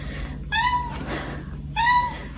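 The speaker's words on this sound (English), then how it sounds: "She is my kitty who needs a lot of attention." A pet cat gives two short, clear meows about a second apart, fairly close and distinct over a low background hum.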